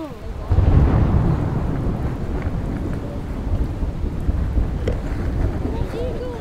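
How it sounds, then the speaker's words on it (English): Low rumble of distant thunder rolling through an outdoor Arctic camp near open water, steady and continuous with wind buffeting the microphone; voices talk over it. "We didn't want to be on the water if it's like thunder and lightning."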